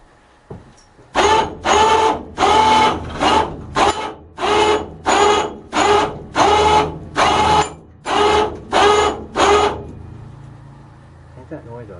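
Winch hauling a load of junk metal on a winch cable, giving a loud, close series of about a dozen rhythmic mechanical bursts that stop and start in even pulses before quieting.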